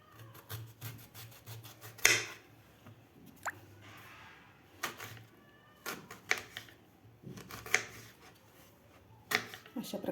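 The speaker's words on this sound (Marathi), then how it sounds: "आता आपल्याला कैरी कट करून घ्यायची आहे." Peeled raw green mango being cut with a knife: intermittent scraping and sharp slicing cuts with soft thuds of pieces dropping, spaced irregularly, with a voice speaking briefly between them.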